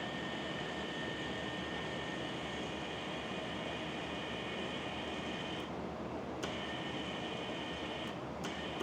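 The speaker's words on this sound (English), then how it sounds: "It's pretty fast rotor here." An antenna rotor motor turns a hex beam, giving a steady, continuous mechanical hum and whine that holds with only brief dropouts near the end.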